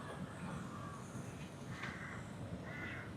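Crows caw in a Thai park, several harsh calls at a distance over a soft, noisy outdoor background, fairly faint and spaced out.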